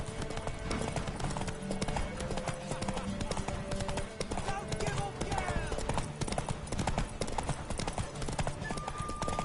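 Horse hooves clip-clopping in the Witcher 3 video game, a steady loud trot heard under overlapping game dialogue and background music.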